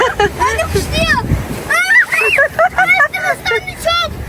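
Water splashes and sprays over riders on a spinning crazy-river raft ride at a large amusement park, loud rushing bursts mixed with excited voices chattering and shouting throughout.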